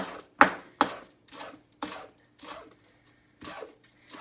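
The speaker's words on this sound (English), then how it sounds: "we're going to use a bunch of scallions and just slice them really thin" A bunch of scallions sliced thin with a knife on a cutting board for a tofu stir fry, sharp close chopping taps in an uneven rhythm.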